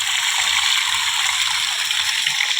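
Water gushes and splashes steadily while a backyard fish pond is drained and refilled, a loud, close, continuous hiss of flow with no pauses.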